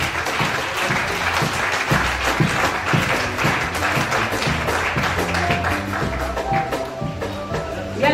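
A church congregation applauds at a Mother's Day service, a dense, steady wash of clapping that carries on throughout, loud and close with voices mixed in.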